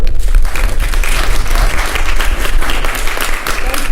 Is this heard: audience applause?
yes